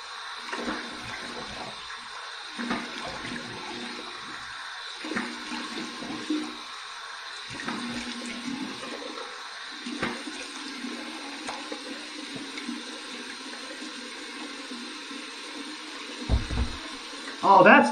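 Warm tap water runs for a post-shave rinse, a steady faint water hiss under intermittent splashing as hands scoop and rinse, with a louder gush near the end.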